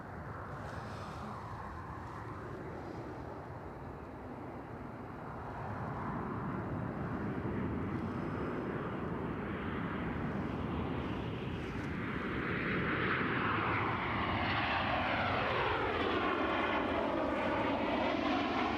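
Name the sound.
Ryanair plane from Berlin coming in to land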